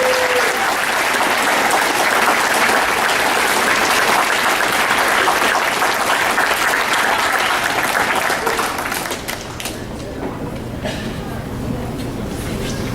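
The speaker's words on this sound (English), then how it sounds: "Let's give them a round of applause." An audience at a junior high spring concert and awards night applauds honor choir students with steady, dense clapping that fills the room, then thins out toward the end.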